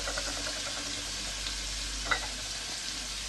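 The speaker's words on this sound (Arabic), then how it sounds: "سيحنا الزبده اهو وهننزل عليها اول مكون الثوم" Fresh garlic fries in melted butter, a soft continuous sizzle with one brief sharper crackle, close and fairly quiet.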